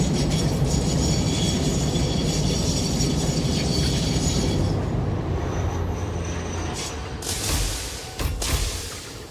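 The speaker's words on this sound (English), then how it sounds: "Are we seriously stopping because there's a Caterium train up there?" A train in the video game Satisfactory slows to a stop, giving a steady loud mechanical rumble with ratcheting, clanking texture that fades toward the end, broken by a couple of brief hissing bursts.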